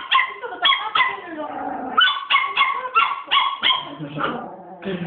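A dog whimpering and yelping close by in repeated short, high, strained cries, with a few sharper bark-like yips in an uneven rhythm.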